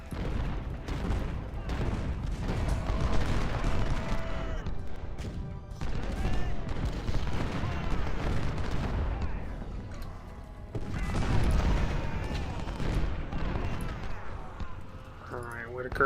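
Musket volleys and artillery trade fire in the Civil War strategy game Ultimate General: Civil War, a dense, continuous battle din of crackling shots and heavy booms with talk over it.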